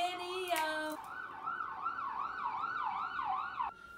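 An emergency siren wails in a rapid rising-and-falling pattern, loud and fairly close, after a brief steady tone at the start.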